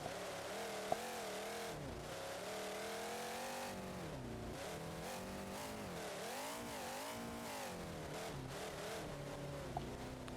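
A monster truck engine revving in the BeamNG.Drive video game, a faint but steady drone whose pitch climbs and dips in repeated rev swells, with no talking.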